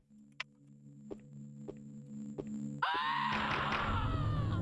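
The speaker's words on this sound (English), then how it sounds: "What are all these screams?" Screams ring out in a Halloween horror video game, first a few sharp isolated ticks over a low steady hum, then a sudden burst of many overlapping wailing, sliding screams that stays loud to the end.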